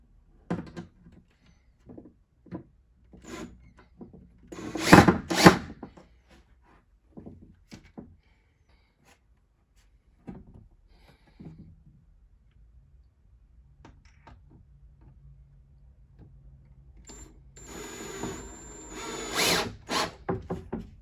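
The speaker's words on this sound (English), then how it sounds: "I prefer to use a drill with a screwdriver bit." Short bursts of a power drill with a screwdriver bit driving screws, whirring in spurts, separated by clicks and handling noises, with a longer drilling run near the end.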